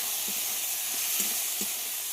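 Ginger garlic paste frying in hot oil for a jackfruit curry, a steady loud sizzle and hiss with faint soft stirring taps beneath it.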